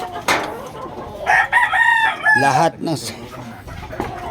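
A fighting rooster perched on a house rooftop gives a loud, close crow with a rising and falling call, while someone speaks briefly nearby and other voices mix in.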